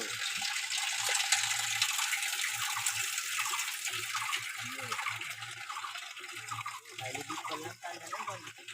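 Water runs steadily into a village water tank, a constant rushing splash heard while people talk over it.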